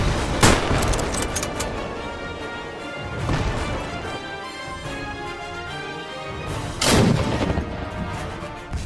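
German panzers destroy a Polish tank during a World War 2 battle recreated in the video game Minecraft. Tank gunfire and heavy explosions land three times, loud and booming, with a rumbling battlefield din in between.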